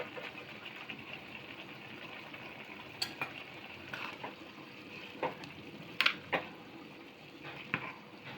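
Chicken biryani being stirred in a pot, with a steady soft sizzle and scattered metallic scrapes and clinks of a spoon against the pot, close and fairly quiet with no talk.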